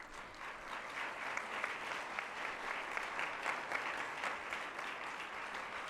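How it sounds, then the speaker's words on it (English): Steady applause from a seated audience at the IPSF World Congress fills the hall, a continuous wash of clapping at moderate distance with no voices above it. "Please give them a big round of applause"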